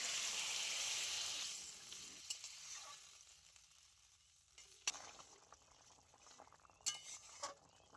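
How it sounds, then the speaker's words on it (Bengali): Water poured into a pan of potato and pointed gourd curry: a loud hissing sizzle that fades over a couple of seconds, leaving a quieter simmer broken by a few clinks of a spoon against the pan. "এবারে আমি দিয়ে দিচ্ছি পরিমাণ মতো জল।"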